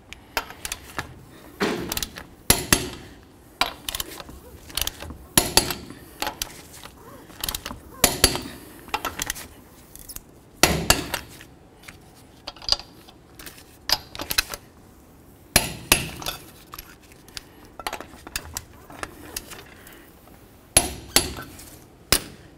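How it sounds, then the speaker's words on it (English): Torque wrench tightening lug nuts on a 1988-2000 Chevy C/K1500 truck wheel: a steady run of sharp metallic clicks and ratcheting snaps, repeated in bursts over faint background noise, with no talk. "then we'll torque all of the lug nuts to 120 foot-pounds."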